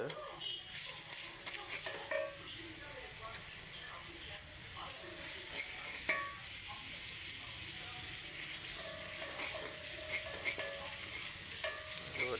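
Garlic ginger paste sizzles and fries in a pan as the first step of fried rice, with a steady close hiss broken by occasional stirring scrapes throughout.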